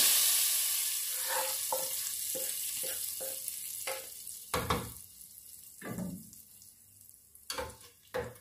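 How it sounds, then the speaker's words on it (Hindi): Soft sizzling from hot oil tempering in a pan, with several sharp bursts and splashes as it is stirred into a lentil curry, quiet between the pops. "तड़का जो है वो सालन में शामिल कर देंगे।"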